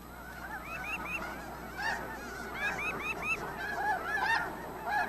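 Snow geese honk on the Arctic tundra, a chorus of repeated nasal calls overlapping in uneven bursts at moderate distance over a steady background.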